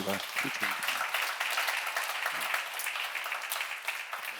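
A crowd applauds steadily, a dense, even wash of clapping throughout, with a few low voices murmuring at the start.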